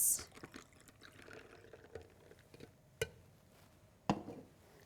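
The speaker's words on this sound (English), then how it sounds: "Pour our liquid right over the ice." Liquid coffee drink mix poured over ice in a glass, a soft close trickle with a few sharp clinks of shifting ice cubes.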